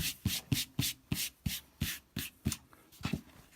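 Scissors trim cotton fabric along a marked line, making about a dozen short, crisp rasping cuts in a steady rhythm, close and fairly quiet, with no voice.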